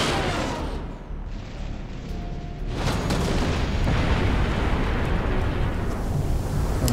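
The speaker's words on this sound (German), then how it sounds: "It is an explosion." A video game explosion in Assassin's Creed Chronicles Russia: a loud, sustained rumbling blast of dense noise that swells and keeps roaring for several seconds.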